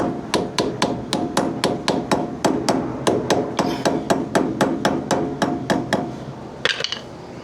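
Hammer tapping a greased wheel bearing part into a trailer hub, with about twenty evenly spaced sharp metallic taps at a steady quick rhythm, loud and close, ending in a couple of softer knocks.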